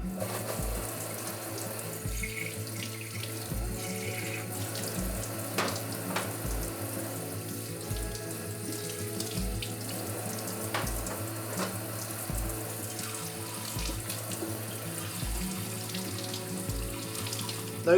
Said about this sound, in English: The plunger can now be cleaned under a running tap